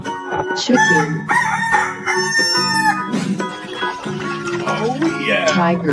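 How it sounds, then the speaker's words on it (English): A cartoon rooster crows cock-a-doodle-doo in a toy animal sound effect, with clucking fowl calls set against lively music and playful voices, ending with a final high crow. "Chicken."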